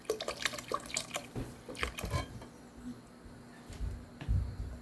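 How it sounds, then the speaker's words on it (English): Full cream milk is poured into a cooking pot for vermicelli, giving close, faint splashing and dripping liquid sounds with soft gurgles that come in uneven bursts. "So I'll add the milk."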